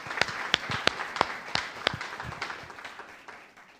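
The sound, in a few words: round of applause in church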